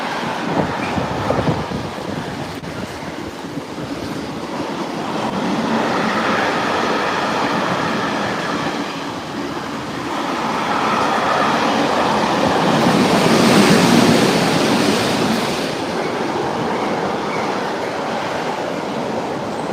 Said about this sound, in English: think that's an engineering train